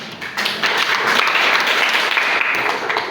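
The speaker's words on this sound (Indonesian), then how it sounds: "Silakan tepuk tangan." Audience applause after a group presentation in an Indonesian classroom or seminar discussion, a dense, steady wash of many hands clapping at even loudness throughout, with no voices over it.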